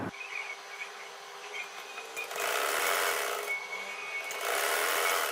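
A sewing machine stitches the outer side of a salwar poncha (trouser hem), running as a steady, close whirring hum that grows louder and denser in two sustained bursts, with no talking.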